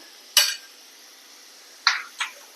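Chopped ginger and garlic in a pan for an egg curry, with three short scraping, sizzling bursts from stirring separated by quiet pauses.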